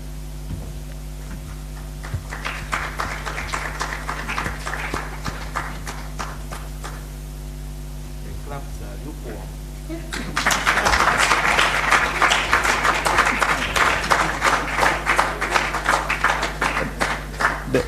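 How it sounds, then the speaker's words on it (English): An audience at a stakeholders meeting on an electoral process claps in a sparse patter that swells at the midpoint into louder, fuller applause, steady until the end. "The claps were very big."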